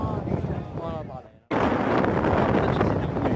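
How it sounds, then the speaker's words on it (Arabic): Strong wind gusting over snowy mountains at Tikjda, buffeting the microphone with loud roaring bursts, broken by a brief near-silent gap before the rush returns and holds steady; a voice speaks briefly early on. "الريح راهو يطير"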